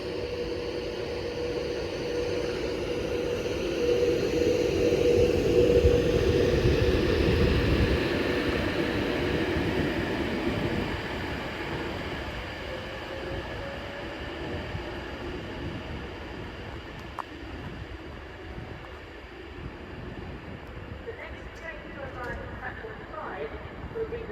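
A Class 390 electric train pulls out of Wigan North Western bound for Glasgow Central, a broad steady rumble swelling for several seconds and then slowly fading as it leaves the platform, with a faint voice in the background.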